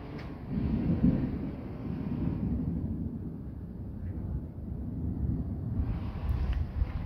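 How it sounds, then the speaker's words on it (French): Thunderstorm north of Nîmes on a summer evening, with a long deep thunder rumble that rolls on steadily, fairly loud, with no voices over it. "Et on a un orage magnifique, avec une petite ligne orageuse qui est en train de se créer."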